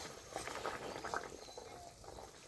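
Red duck egg curry gravy boils in a pot, a faint, close bubbling and soft liquid burble that continues evenly through a brief stretch with no speech.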